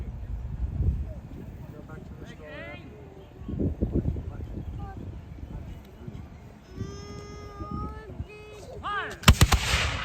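A historic cannon fires at a Tryon Palace musket and cannon demonstration, with one sharp, loud blast near the end following scattered talk and background crowd chatter throughout.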